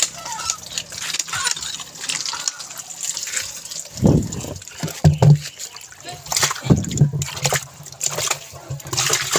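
Water splashes and pours in short bursts, as if something is being rinsed under a running tap, with a voice talking in the background.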